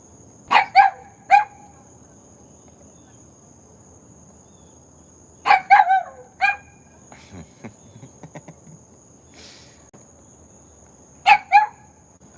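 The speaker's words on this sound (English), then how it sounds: "And she don't even know what she's barking at." A dog barks outdoors in short bursts of two or three sharp yaps, repeated three times with long pauses, over a steady high whine of crickets and insects; no talking.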